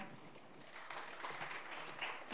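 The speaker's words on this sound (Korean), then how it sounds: "이소영 위원님을 여러분 큰 박수로 환영해 주시기 바랍니다" Audience applause in a city hall auditorium at a regional development policy seminar, welcoming a presenter to the podium; a fairly soft, steady patter of many hands that holds evenly throughout.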